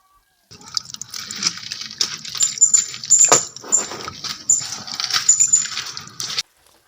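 Water pours and splashes into the soil of a potted grape vine being watered after repotting, a continuous trickling and gurgling stream with occasional drips, close and fairly loud, with no talking.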